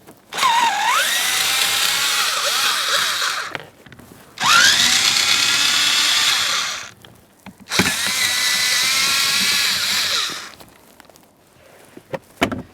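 Power drill backing out Phillips head screws along the bottom of a Nissan Maxima glove box: three separate close, loud whirring bursts of a few seconds each, with short pauses between and no talk.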